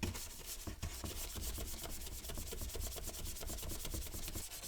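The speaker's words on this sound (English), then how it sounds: "I'm going to move to a little bit of a stiffer bristle in order to try to clean that out" A stiff-bristle brush scrubbing grime out of plastic slots, producing quick, rhythmic back-and-forth rasping strokes, close and quiet, repeating steadily for several seconds.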